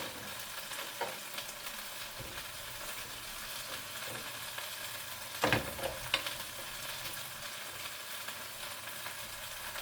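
Chuck roast frying in fat in a clay cazuela, a continuous crackling sizzle with a few louder pops and stirring scrapes partway through, close and steady with no talk.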